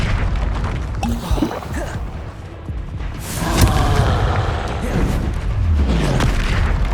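Fiery Confringo spell blasts in Hogwarts Legacy on PS5 bring rumbling booms and crackling bursts. They come in waves through a loud, dense combat mix with game music and effects.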